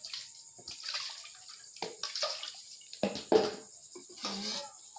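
Water poured into sifted gari, cassava granules, for a second sifting, a soft splashing trickle with wet rustling and a few clinks, close and steady without speech.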